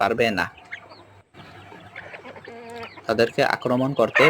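Chickens on a small farm give close, bursty clucks and short squawks, with brief pauses between calls and some louder, voice-like bird cries near the end.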